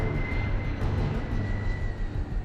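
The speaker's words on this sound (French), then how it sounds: "Dévié de sa route et lancé à pleine vitesse, l'avion a changé de cap." Steady, loud engine roar of a hijacked airliner flying at full speed on 11 September, a continuous broadband drone with a faint high whine running through it, no voices.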